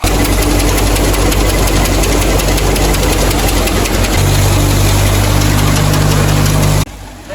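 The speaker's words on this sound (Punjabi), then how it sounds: "ਇੱਕ ਵਾਰ ਟਰੈਕਟਰ ਦੀ ਆਵਾਜ਼" An old tractor engine runs loud and close during a wheat harvest, with a steady chugging idle, its low hum deepening partway through before cutting off abruptly near the end.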